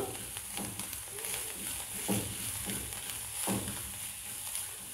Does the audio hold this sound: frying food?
yes